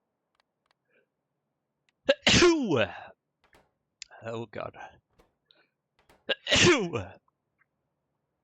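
Two loud, sharp sneezes separated by a few seconds, with a short muttered exclamation between them, in an otherwise quiet room.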